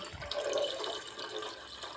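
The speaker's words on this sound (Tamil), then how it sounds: "இப்போ தண்ணி ஊற்றிடலாம்" Water poured into milk in a home kitchen while making peanut chutney, a steady close splashing pour that runs for about two seconds with no talk over it.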